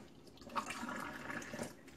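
Water pours from a Sawyer Select S3 purifier filter pouch into a sink, using well water to prep the filter; a steady, close splashing stream runs alone for the whole stretch.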